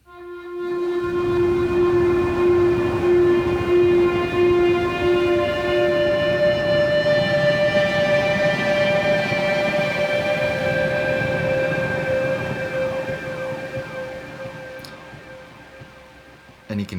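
A drone synth soundscape with sustained layered tones and slowly drifting pitch lines, shimmering pulsar-like trails added by a Strega synthesizer, steady and fairly loud before fading near the end.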